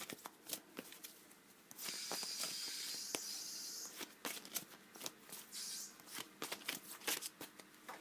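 A deck of tarot cards being shuffled close by, soft riffling bursts and sliding swishes separated by light taps and quiet pauses.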